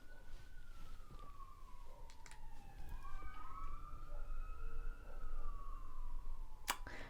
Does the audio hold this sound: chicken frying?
no